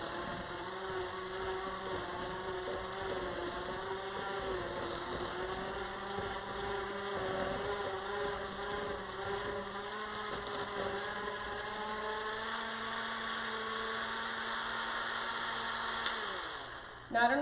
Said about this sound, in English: We're gonna get our hand mixer back again, turn this on, get that all mixed together nice and smooth.